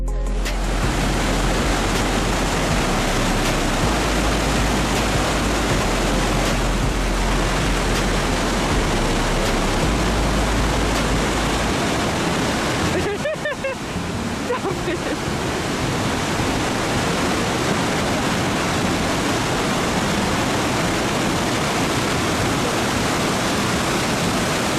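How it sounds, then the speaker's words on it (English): Sunwapta Falls on the Sunwapta River in Jasper, Alberta, sends a dense, steady roar of rushing whitewater, loud and close, with a broad hiss that barely changes across the whole stretch and no voices. "Sunwapta Falls is a pair of waterfalls on the Sunwapta River"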